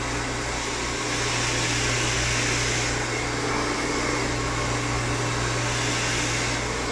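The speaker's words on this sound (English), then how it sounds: "The blow dryer I'm using is the Babyliss ceramic blow dryer." A Babyliss porcelain ceramic blow dryer running on its cool-air setting gives a steady, continuous close-up whoosh and whir with no break and no talking.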